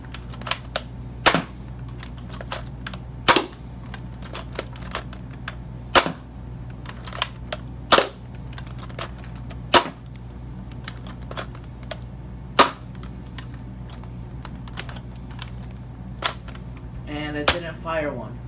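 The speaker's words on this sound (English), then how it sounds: "Stick firing demo with random darts with random conditions." Nerf Hammerstorm blaster from the Alpha Strike series firing foam darts, a series of sharp, loud snapping shots at irregular intervals of one to two seconds, close by, with small clicks and rattles of handling between shots.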